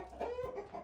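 A hen clucks in short, low murmuring bursts, close by, with soft rustling around it.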